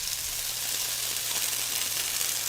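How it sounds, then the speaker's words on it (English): Soft, steady sizzling hiss of water on beans frying in a hot pan, continuous and fairly quiet, with no talking. "And what you're hearing is the water on the beans"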